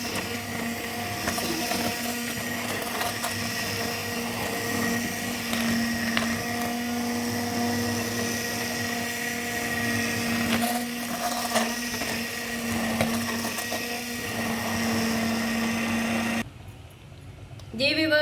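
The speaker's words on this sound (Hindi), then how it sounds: "एक हैंड ब्लेंडर लिया और इसको चलाओ।" A hand blender whirs steadily and loudly for a long stretch while blending apricot sauce, a constant motor drone that cuts off abruptly near the end.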